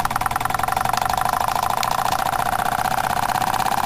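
A Jensen 25 engine runs steadily at speed, a continuous fast-pulsing mechanical hum with a whine and faint rattling, close and loud.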